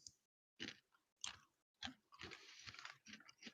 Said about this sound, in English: God, I can't stop munching on these pretzel sticks.